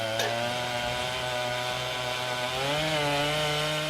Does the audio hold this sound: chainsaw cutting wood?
yes